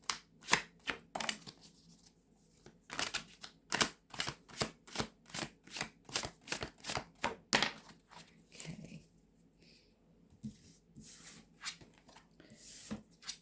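A deck of tarot cards is shuffled by hand in a steady run of crisp riffling flicks, close and fairly quiet, then looser softer handling toward the end, with no talking.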